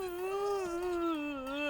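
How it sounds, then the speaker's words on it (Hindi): A dog crying and whimpering in one long, wavering, tonal whine that rises and sinks slowly, close and steady, with no talk over it. "शायद कोई कुत्ता रो रहा है।"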